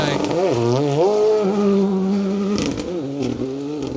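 Ford Fiesta rally car driving hard on a slate forest stage at a rally, its engine revving loudly with rising and falling pitch through gear changes, close and continuous.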